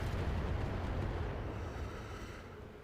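Anti-missile system firing in the BattleTech video game, a dense rumbling burst of rapid fire that swells and then slowly fades, with no voices over it.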